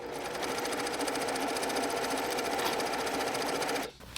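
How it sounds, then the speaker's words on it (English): A sewing machine runs a continuous fast stitch along a quarter-inch backstitched seam on a foam-lined sunglasses case, close and steady, then stops abruptly just before the end. "we're going to do a 1/4 inch seam allowance back stitch"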